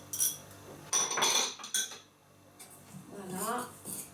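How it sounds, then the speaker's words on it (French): A spoon mixing vegan raw cookie dough in a bowl: repeated clinking and scraping against the bowl in short bursts, fairly close, with a voice speaking in the latter part. "Et puis vous allez mélanger tout ça."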